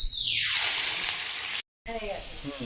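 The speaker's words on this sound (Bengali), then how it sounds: "কড়াইটা গরম হয়ে গেছে, তেল দিয়ে দিয়ে তেজপাতা আর গোটা জিরে।" Bay leaf and whole cumin sizzle in hot oil in a heated wok, a steady loud frying hiss that cuts out briefly, then returns with faint voices talking over it.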